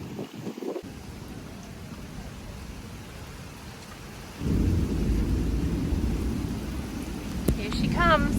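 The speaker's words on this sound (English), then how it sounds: "It's a real thing, this whole storm season here in Texas." A Texas thunderstorm with rain, steady broadband rain and wind noise that grows louder and heavier about halfway through, with faint bird chirps near the end.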